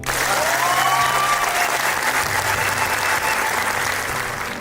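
An audience claps in loud, sustained applause for several seconds, a dense, steady roar of many hands with a brief whistle or cheer near the start, fading slightly at the end.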